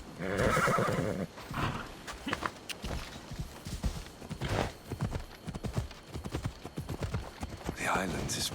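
A horse whinnies loudly at the start, then its hooves clip-clop steadily at a walking pace while riding in Assassin's Creed, with voices talking over the hoofbeats and another neigh near the end.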